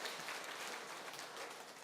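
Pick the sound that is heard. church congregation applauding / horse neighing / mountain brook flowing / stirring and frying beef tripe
church congregation applauding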